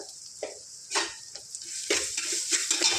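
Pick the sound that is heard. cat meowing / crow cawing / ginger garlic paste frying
ginger garlic paste frying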